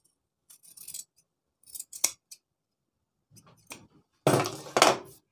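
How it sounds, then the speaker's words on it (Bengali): Scissors trim the excess seam margin from a sewn shirt sleeve, giving a few quiet, brief snips and crisp rasping cuts in bursts, with the last cuts the loudest. "দিয়ে বাড়তি মার্জিনটা কেটে ফেলে দেবো।"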